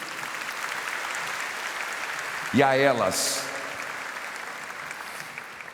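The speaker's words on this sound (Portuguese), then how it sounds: "Uma salva de palmas a eles" A church congregation claps steadily in the background while a voice speaks briefly over the applause.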